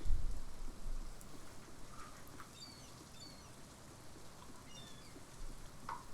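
Soft, steady rain patters faintly and evenly throughout, with a low thump at the start and a few scattered drips standing out near the end.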